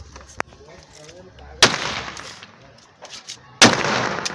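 Mirchi chili firecrackers burst in two sharp, loud cracks about two seconds apart, each followed by a crackling, hissing tail, with a smaller pop earlier and faint voices nearby.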